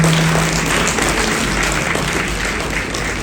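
Steady, dense applause from an audience at a Yakshagana Devi Mahatme performance, a broad wash of many hands clapping at an even level throughout.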